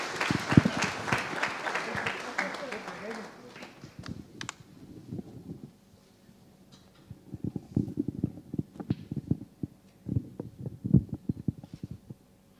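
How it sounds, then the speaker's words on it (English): An audience at a leadership talk claps in a dense round of applause that fades after a few seconds, followed by scattered quieter handling knocks and thumps. "Let's have another round of applause for him before he starts"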